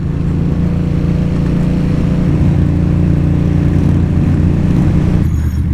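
Honda motorcycle cruising along a road at low revs, a steady close engine drone with an even low hum that holds throughout, briefly shifting near the end.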